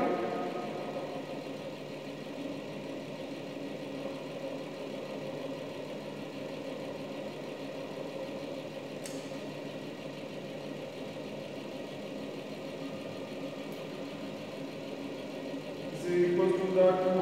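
A universal governor apparatus runs in a lab at increasing speed with a steady, moderately quiet mechanical hum and a faint knocking vibration, and it stays even throughout.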